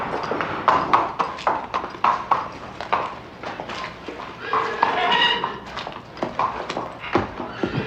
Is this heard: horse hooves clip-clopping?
yes